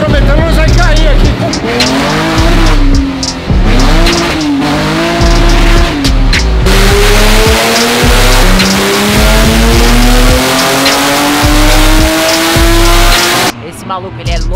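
A Chevrolet Caravan drag car running on nitromethane screams through rising gear pulls with squealing tires, then fades into a long, loud engine wail and drops off abruptly at the end.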